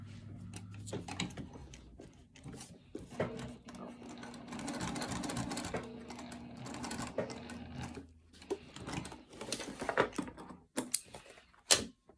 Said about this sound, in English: we're going to go back to the machine and we're going to stitch just down that short side right along there